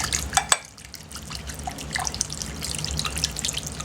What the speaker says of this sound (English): some lemon pepper Mrs. Dash, again about half a teaspoon to a teaspoonful, and then whisk this up